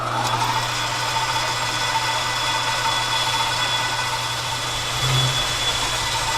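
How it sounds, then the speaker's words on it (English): A lathe cutting a chamfer on the rotor shaft of a Baldor 15 HP three-phase electric motor, giving a steady mid-pitched machine drone with a faint high whine, constant and fairly loud, with a brief low swell near the end. "So let's go ahead and get our chamfer and stuff cut in."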